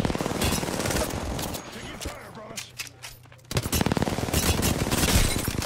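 Bursts of rapid automatic gunfire in Apex Legends, loud and dense at the start, easing into scattered shots for a moment, then resuming at full intensity, with voices talking over the action.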